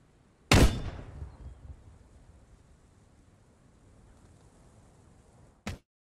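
A large-caliber mortar firing in the video game Post Scriptum, one sharp loud launch blast that decays into a long fading rumble, followed later by a brief second crack.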